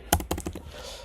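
Computer keyboard keys tapped in a quick cluster of about six close, crisp clicks, then a faint hiss; no talking.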